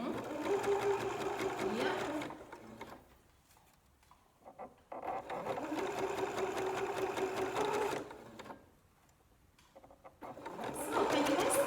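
Sewing machine running in two bursts of steady stitching with a pause between and a third burst starting at the end, reversing for a short backstitch on an upcycled T-shirt bralette; a brief spoken reply is heard.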